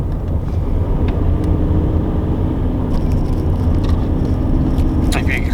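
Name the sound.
car driving on mountain road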